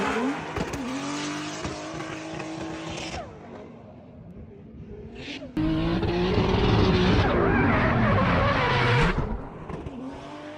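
A drift car slides sideways into the first turn, its engine revving hard with rising and falling pitch, then a brief lull before a louder, closer burst of revving and tire squeal as it swings through the corner.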